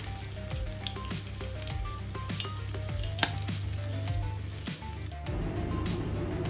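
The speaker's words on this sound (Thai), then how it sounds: "เราผัดกระเทียมค่ะ" Garlic stir-frying in a pan, with steady close sizzling and repeated scraping strokes of a utensil, ending in a brief louder burst of frying; no talking.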